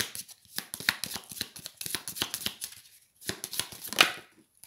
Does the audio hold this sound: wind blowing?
no